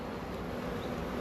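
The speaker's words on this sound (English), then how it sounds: "you can see where the bees are now flying up in a circle" A dense, steady buzzing drone comes from many honeybees circling in the air in front of their hive, close and continuous, with no voices.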